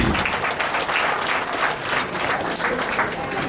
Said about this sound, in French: Je vous demande de l'applaudir parce qu'il n'a pas démérité.